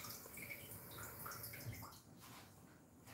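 Tap water runs steadily into a container in a home kitchen while chicken is cooked for Easter, a soft continuous hiss and splash throughout, fairly close and moderately quiet.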